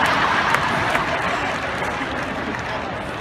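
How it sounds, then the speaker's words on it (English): Dense audience clapping at a university speech event, a steady wash of applause with a few sharper claps early on, easing slightly in intensity toward the end. "You can stop clapping because that ain't happening."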